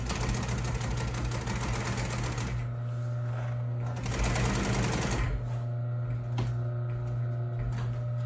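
A commercial upholstery sewing machine stitches through a cover, its fast, even mechanical chatter and steady motor hum running close and continuous, briefly easing and then picking up again.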